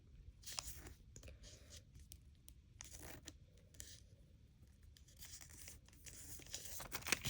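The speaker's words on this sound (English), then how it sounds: "Now fold this corner up to the top." Paper is creased and folded by hand for an origami peace dove, making quiet intermittent crinkles, scrapes and soft crunches up close, with no voices.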